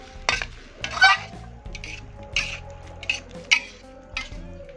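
Bottle gourd stir-fry being stirred in a pan, with a series of scraping and clinking utensil strikes against the metal spaced irregularly over a low sizzle, close by and without talk.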